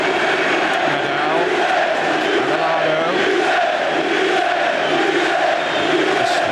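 A packed football stadium roars after a Manchester United goal against Barcelona in a 1994 Champions League match, a loud, sustained wall of cheering and chanting that never lets up.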